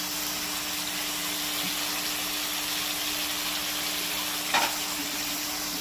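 Mutton sizzles in a pan over a wood fire, a steady, even hiss with a faint low hum beneath and one brief louder crackle near the end. No voices.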